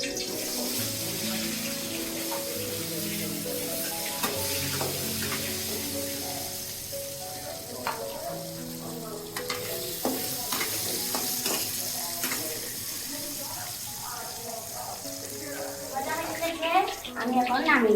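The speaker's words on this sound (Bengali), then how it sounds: "আমি এখন আলুগুলো ভেজে নিচ্ছি" Potatoes frying in a pan for a duck curry, giving a steady crackling sizzle with occasional stirring scrapes and a burst of louder spattering near the end, while a voice or faint tonal sounds continue quietly in the background.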